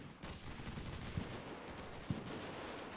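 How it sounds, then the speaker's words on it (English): Small arms gunfire in the combat video game Combat Mission Shock Force 2, a faint continuous crackle of distant shots with a couple of sharper reports, no voices. "And plenty of small arms fire."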